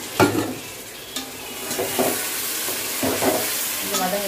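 Tomatoes sautéing in a pan for chicken biryani, with a steady sizzle and repeated scraping strokes of a spoon stirring them every second or so, close and clear without talk.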